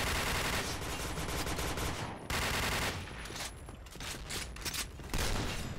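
Rapid automatic gunfire from the online shooter game Point Blank during a championship match, bursts of loud dense shots nearly continuous across the span with brief gaps between volleys.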